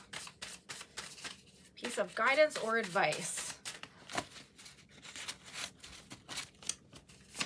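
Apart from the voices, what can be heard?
shuffling a deck of tarot cards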